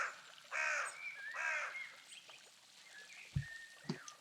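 Two bright, warbling bird calls from the video game Pentiment ring out in quick succession, followed by quieter chirps and a couple of soft low thumps against a faint ambient hiss.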